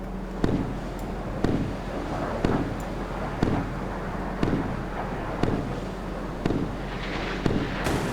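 Missiles launch in the naval combat video game Sea Power, a run of sharp blasts arriving about once a second over a steady low rumble.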